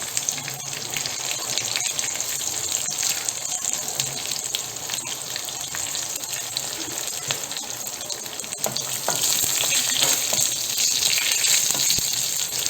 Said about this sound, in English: Once it splutters, add the green chillies.